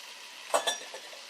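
Diced carrots drop into a pot of cheeseburger soup and are stirred, giving a couple of brief close clinks and a soft scrape over a quiet background hiss.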